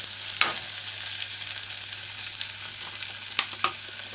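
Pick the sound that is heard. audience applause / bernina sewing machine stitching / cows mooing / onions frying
onions frying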